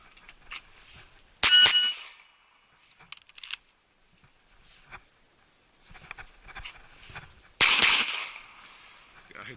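Two sharp pistol shots from an Arsenal Strike One cracking at a target outdoors in cold weather, spaced several seconds apart, loud and close, with faint handling clicks and rustling between them.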